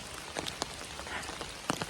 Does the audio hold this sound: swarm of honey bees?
no